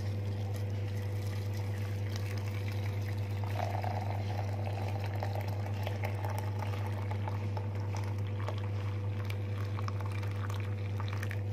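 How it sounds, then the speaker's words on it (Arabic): Two cups of boiling water are poured into a container, making a soft, continuous trickling and bubbling over a constant low background hum. The pour is faint and steady. "هنزل عليهم بكوبايتين اتنين ميه مغليه."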